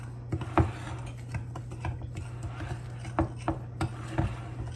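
Sugar being mixed into a cornbread mixture in a bowl, quick irregular clicks and scrapes of a utensil against the bowl over a steady low hum, with no talking.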